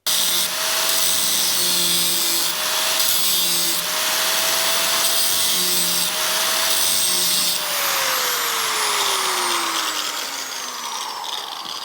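A small grinder runs continuously on a Chevy C10 door skin, a steady high whine with loud broadband grinding noise that holds for about eight seconds, then winds down with a falling pitch as the tool spins to a stop.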